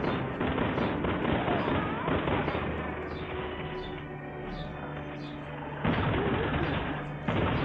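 Gunfire in Resident Evil 6 rings out in repeated sharp bursts, loud and close, over a dense layer of game noise and music, with a player talking throughout.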